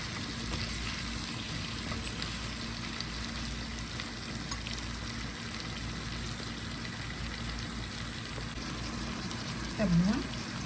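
Shrimp fry in a pan, a quiet, steady crackling sizzle throughout with a brief louder clink near the end, and a voice talking faintly at times.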